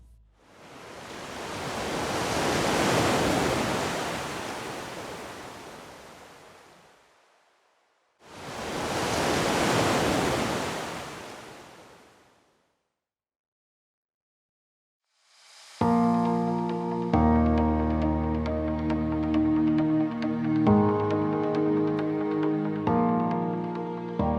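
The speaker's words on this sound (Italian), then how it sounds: "Fermarsi e godersi il rumore del mare è un atto necessario e pienamente rigenerativo." Sea waves on a Tasmanian coast of pink granite rocks sweep in as two long, loud swells of rushing surf separated by silence, then the sound gives way to music.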